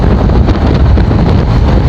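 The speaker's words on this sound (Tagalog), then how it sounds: "Pero ngayon mahangin lang." Strong wind buffets the microphone at a lagoon in Cataingan, Masbate, a steady loud rumbling roar with gusty fluctuations throughout and no other clear sounds.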